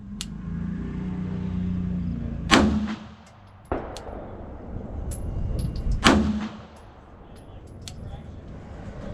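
Pistol shots from a repaired Bulgarian Makarov fired at a paper target outdoors: four sharp, loud cracks at irregular intervals, each with a short echoing tail over a low background rumble.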